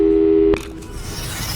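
A telephone busy signal in the Portal 2 video game: a loud steady electronic tone holds for about half a second, then cuts off abruptly into quieter background noise.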